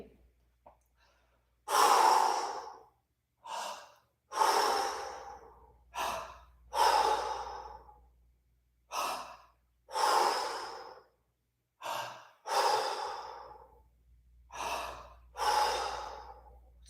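Heavy rhythmic breathing during a kettlebell swing clean, with repeated sharp inhales and forceful exhales in a steady cycle of about a dozen breaths, close and loud against a quiet background.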